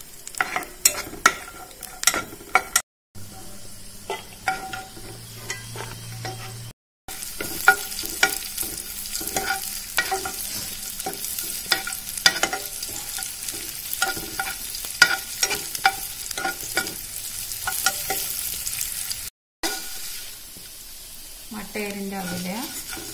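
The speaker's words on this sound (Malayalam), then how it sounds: "അത് ചൂടായി ഞാൻ കാഷ്യം കിസ്മിസും വറുത്തെടുക്കാം." Cashews and raisins fry in hot ghee in a pan, giving a steady crackling sizzle with frequent spoon scrapes and clinks against the metal, close and moderately loud, with brief breaks.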